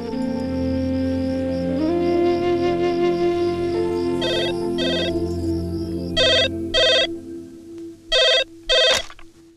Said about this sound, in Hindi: सर, वो घर से फोन था।